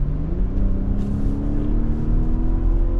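A 2020 BMW X7 luxury seven-seater SUV driven in sport mode, engine humming loud and low from inside the cabin with a steady rumble and slight rise in pitch.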